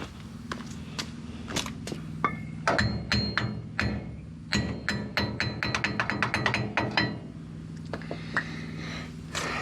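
Jacking up a Ford F350 truck axle, sharp metallic clicks and clanks in quick irregular bursts, close by, like a jack handle being pumped, with short pauses between runs.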